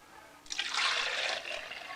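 Cooled milk pours back into a yogurt maker insert: a soft, steady stream of liquid starts abruptly and runs on quietly for over a second, close by and with no voices.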